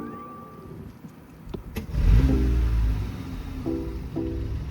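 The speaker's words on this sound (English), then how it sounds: "Now let's try starting it one more time and see if we get any stutter on the startup." A BMW i8 with its B38 engine and new ignition coils cranks and fires on a cold start, then settles into a steady idle with small rises in revs, close and fairly loud.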